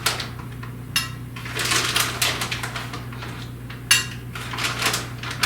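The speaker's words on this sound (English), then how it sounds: "take a spoon and put this mozzarella cheese in the cup" A spoon scraping and clinking against a cup while mozzarella cheese is scooped in, a quick run of small, close, uneven taps and scrapes with a couple of sharper knocks over a low steady hum.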